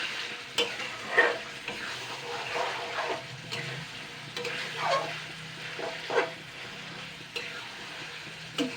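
Fish oil with salt, sugar, turmeric and spices frying in a pan, a steady close sizzle broken by repeated stirring scrapes at irregular intervals, with no talk.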